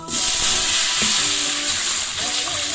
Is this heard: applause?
no